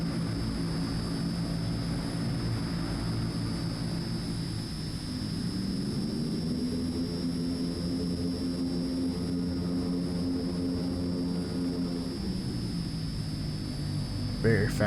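Loud propeller aircraft engines in Microsoft Flight Simulator 2024, in beta, droning steadily from outside, the pitch dipping and then rising as the propellers shift, a continuous whirring roar.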